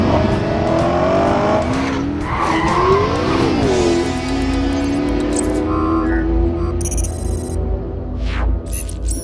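A 2.5-litre Subaru Impreza WRX STI is driven hard on a race track, its engine loud and close as it revs up and down through the gears, with tyres squealing and skidding through corners.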